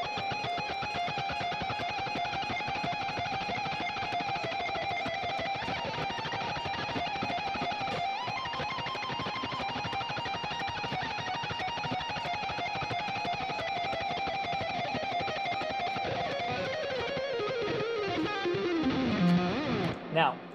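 A guitar finger exercise runs quickly through rapid repeated notes for about twenty seconds, busy, distorted and continuous at steady loudness, with a brief slide near the end.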